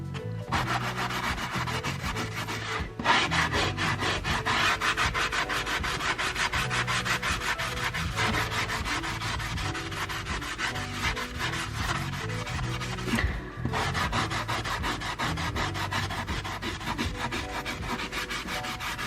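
A surface is scrubbed by hand with Koh cleaner: a continuous, dense rubbing rasp that keeps a steady back-and-forth rhythm for a long stretch, close and alone, with only two brief pauses.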